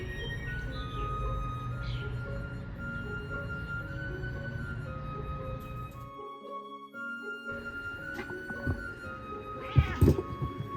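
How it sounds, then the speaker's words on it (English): A kitten found on a doorstep during a tiny house renovation meows a few times, the calls clear and fairly close against a steady background hum, with a brief quieter gap midway and a couple of louder bursts near the end. "This is Dax, a kitten who showed up on our doorstep while renovating the tiny house"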